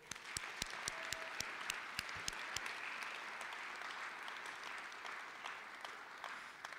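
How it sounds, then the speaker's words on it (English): Clapping from an audience honoring student-athletes at a school spring concert, a moderate crowd with a few sharp nearby claps standing out over the steady wash of applause. "Let's clap for them."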